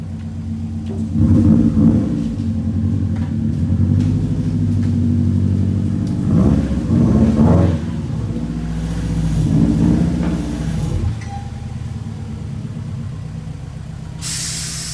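A turbocharged stock Subaru EJ20 engine on a dyno roars through repeated rev surges, a deep, loud rumble that rises and falls in waves before settling.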